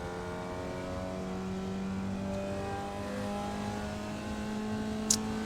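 Formula Vee race car in iRacing sliding on the throttle through the final corner at Circuit de Ledenon, a steady buzzing engine drone holding one pitch throughout, fairly faint and without speech.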